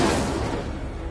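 A fire spell, Incendio, cast in the Hogwarts Legacy video game: a loud, dense burst of roaring flame that carries through about a second and fades slightly toward the end, with no voices.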